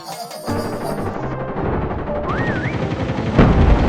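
Rapid automatic gunfire in the Call of Duty video game, dense rattling bursts that run almost without a break, mixed with game effects and a rising electronic tone, loud and close throughout.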